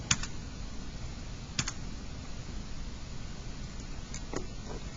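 A few sparse key presses on a computer keyboard as a single number is typed, faint, soft clicks spaced seconds apart over a quiet room hum, with no talking.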